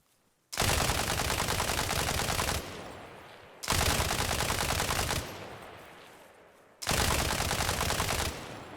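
Light machine gun firing in the video game Arma Reforger: three long sustained automatic bursts, each about two seconds, loud and close, separated by short pauses, with no talk.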